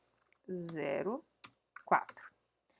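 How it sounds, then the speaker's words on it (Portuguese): Someone types a telnet password on a computer keyboard while configuring remote access on a network device. A short tonal, voice-like burst comes first, followed by a few sparse, close key clicks in a quiet room. "Vamos digitar uma senha para acesso via telnet"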